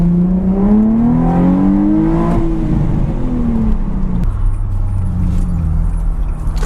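A Nissan 350Z fitted with a new aluminium radiator accelerates through the gears, the engine note rising in pitch, dropping at a shift and climbing again, loud and close with steady road rumble and no talking.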